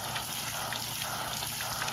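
Rinse water runs and drips off freshly hosed tumblers outdoors ahead of a storm, a faint, steady spattering patter with no voices.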